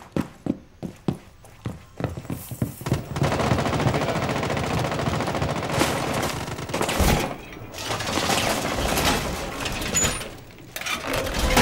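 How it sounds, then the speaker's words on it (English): Rapid bursts of gunfire in the video game Rainbow Six Siege: a string of sharp separate shots, then sustained loud automatic fire with brief gaps, dense and close. "Shooting through that window."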